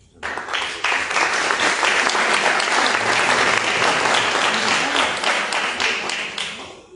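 Audience applause at a book launch for the book Vivo en Vida, a dense, steady round of many hands clapping that swells up quickly and holds for several seconds without speech.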